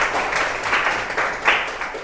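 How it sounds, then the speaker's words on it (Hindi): Classroom applause for a student who answered correctly, a short burst of many hands clapping together, fairly close and dense, lasting about two seconds. "तालियां इनके लिए।"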